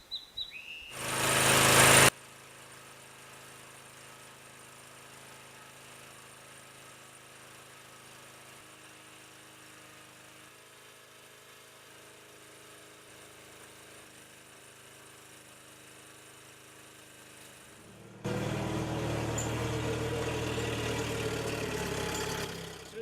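A Honda WB20 XT water pump's small petrol engine bursts into a loud close roar, drops to a low steady idle hum for most of the stretch, then surges back to a loud running drone near the end.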